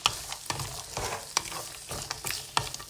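Onion, pepper, peanuts and curry leaves sautéing in a pan for upma, with a soft sizzle under quick, irregular spoon scrapes and taps against the pan, close but fairly quiet, and no talking.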